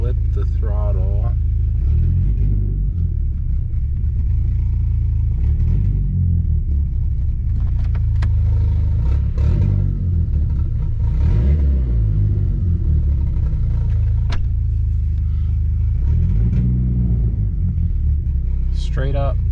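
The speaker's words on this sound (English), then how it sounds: "Let's blip the throttle." A warmed-up car engine fitted with an MRP 3-inch MAF housing idles with a deep, loud rumble, and several throttle blips push the revs up briefly and let them fall back, while a person talks over it.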